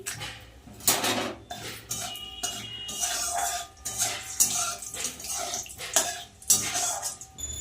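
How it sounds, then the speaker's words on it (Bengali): A metal spoon clatters and scrapes against a pan as fried potatoes are lifted out of oil while making a country chicken curry, with repeated clinks and knocks of utensils and cookware close by and no talking. "এবার আমি আলুগুলো নামিয়ে নেব"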